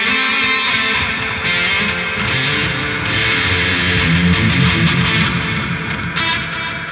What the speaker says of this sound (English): So here's the sound without the gate.